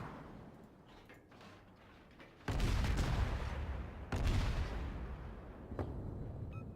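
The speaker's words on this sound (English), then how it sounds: "this Fubuki, enemy Fubuki, is right here and is trying to shoot and kill me" An enemy Fubuki destroyer opens fire in a naval video game. Two heavy booming salvos land a couple of seconds apart, each followed by a loud rumbling roar that fades slowly.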